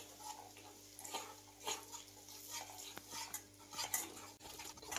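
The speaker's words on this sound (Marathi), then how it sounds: "तर हे सर्व मसाले आता टाकून घेऊया आणि व्यवस्थित मिक्स करून घ्यायचं आहे." Spices are stirred and mixed in a pan for a dhaba-style kaju paneer gravy, with a spoon scraping and clinking in repeated soft strokes over a faint sizzle, and nobody talks.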